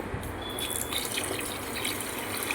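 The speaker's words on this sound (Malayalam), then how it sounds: "1 ലിറ്റർ വെള്ളം കൂടെ പഞ്ചസാരയിലേക്ക് ഒഴിച്ചതിന് ശേഷം" Water pours onto sugar in a steady, close stream with a light splashing hiss, continuous and unaccompanied by voices.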